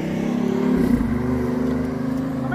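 A car's engine runs steadily and close by as it is parked, a continuous low hum with a slight rise in revs near the start and no voices.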